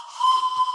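A short, shrill whistle blast sounds close and fairly loud, a single sustained tone with a breathy hiss under it, lasting under a second.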